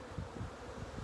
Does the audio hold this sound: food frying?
no